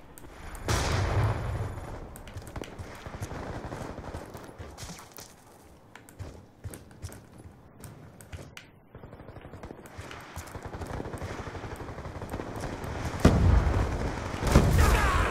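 Rapid bursts of gunfire in the online shooter Black Ops 2, light-machine-gun fire on the map Overflow, crackling in dense, repeated volleys with a heavier cluster of shots near the end.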